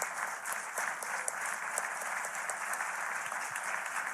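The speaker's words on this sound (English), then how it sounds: "one more round of applause for our Bennie honorees, our Candle honorees" Sustained applause for honorees at an awards gathering, a dense, even roar of many hands clapping with no talk, moderately distant and steady throughout.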